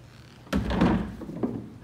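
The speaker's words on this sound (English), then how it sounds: "open the bottom door" A storage door on the console of a 24-foot Islamorada Boatworks Morada boat is opened with a single solid thunk, followed by a short rattle and a fainter knock.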